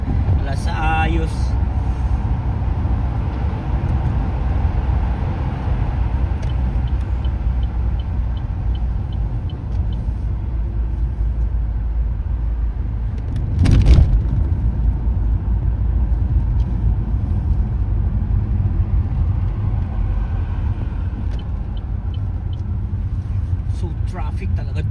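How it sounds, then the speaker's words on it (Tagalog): Afternoon road traffic in Manchester, a continuous low rumble of cars and engines with one louder vehicle whooshing past near the middle, while a person talks over it. "Traffic talaga dito sa hapon"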